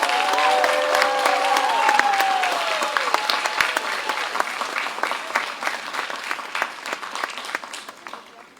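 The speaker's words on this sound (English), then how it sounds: "Please honor all doctoral degree awardees with your applause." A graduate-degree commencement audience at Wagner College applauds doctoral degree awardees, with sustained dense clapping that fades slowly, and a voice over the start of the applause.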